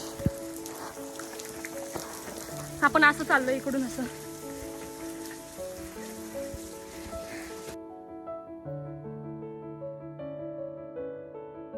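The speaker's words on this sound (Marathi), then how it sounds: "थांबा एक मिनटं तुम्हाला पाऊस दाखवते" Steady mountain rain near Malshej Ghat patters and hisses close by while someone speaks briefly; the rain noise then cuts off abruptly, leaving soft sustained tones.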